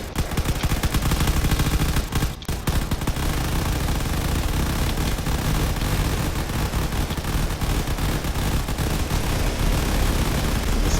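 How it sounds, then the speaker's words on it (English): Point defense weapons blaze away at incoming torpedoes in the space game Drone Wars, a dense, unbroken roar of rapid gunfire and rattling bursts that stays loud and constant, with no voices. "Point defense systems are kicking in immediately to try taking out those torpedoes"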